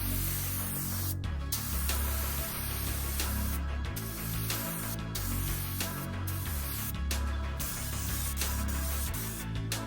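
Spray gun laying straight black paint onto a Nissan 350Z in a rebuild shop, a loud continuous hissing spray broken by several short pauses as the trigger is released, with no voices.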